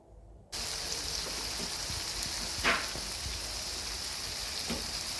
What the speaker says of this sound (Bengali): এগুলো ধীরে ধীরে ভেজে নিতে হবে